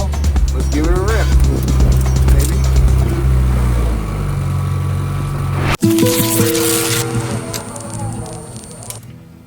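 A Honda-powered, F1-inspired Ford Model A with no seat revs loudly and pulls away close by, its engine note climbing and shifting, then cutting briefly before surging again as people talk over it.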